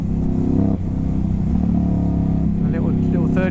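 A Ducati Hypermotard 950 SP with a decat exhaust pulls a gear roll-on, its loud, close engine note droning steadily and rising in pitch through the last second, with a brief dip near the start.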